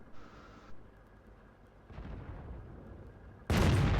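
In World of Tanks, a tank shell lands a critical hit that destroys enemy artillery: a rumbling blast near the middle, followed by a louder, sharper explosion that cuts in hard near the end.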